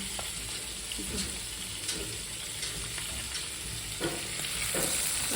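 Nile perch fish pieces fry in a pan with a continuous moderate sizzle and occasional crackles and stirring scrapes, close and steady, with no talking.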